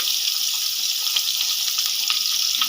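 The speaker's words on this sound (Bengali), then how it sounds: "আলু গাজর আর ওলকপি একসাথে ভেজে নেব ওলকপি দিলাম দিয়ে দিলাম মূলো আলু" Potatoes, carrots, kohlrabi and radish frying together in a pan give a loud, close, unbroken hiss, with faint ticks as the vegetables shift.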